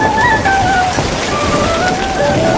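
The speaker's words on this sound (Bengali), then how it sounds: "শাপলা, দিয়া ও রাজু বৃষ্টির পানিতে ভিজতে ভিজতে নদীতে মাছ ধরতে যায়।" Steady rain falls in a rural village scene in a cartoon during the monsoon, a dense even patter filling the whole stretch with faint tonal music running underneath and no voices.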